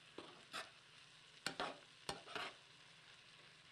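Soy sauce gets stirred into veggie fried rice in a hot pan, a handful of scraping spatula strokes over a soft, steady sizzle.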